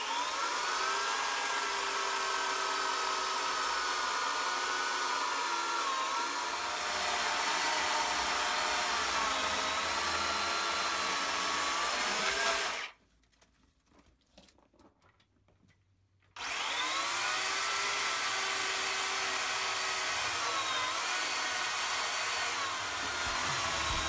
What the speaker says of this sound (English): then the prop is cut with an electric chainsaw.